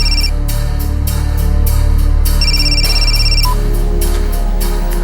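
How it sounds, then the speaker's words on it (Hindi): A telephone rings repeatedly in bright electronic bursts over a steady low hum, loud and close. "फोन उठाओ"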